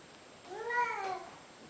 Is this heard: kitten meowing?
yes